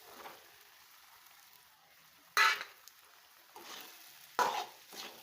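Sabudana (sago) khichdi with red chili powder being stirred in a pan, with a few distinct scraping strokes of the spoon over a soft background sizzle and no voices.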